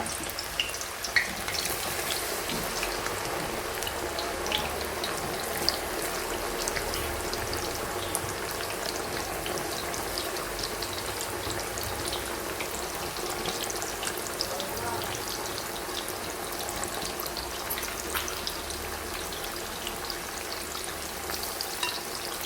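Banana slices fry for chips in hot oil, a dense, continuous sizzle and bubbling with occasional stirring clatter, steady and close throughout.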